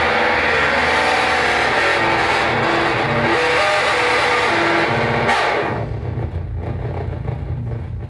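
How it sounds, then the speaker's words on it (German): A voice run through audio feedback, a dense, loud, smeared wash of droning tones and ringing layers that fades into a lower rumbling tail near the end, with no clear words. "Wisst ihr, wie Feedback auf Stimme klingt?"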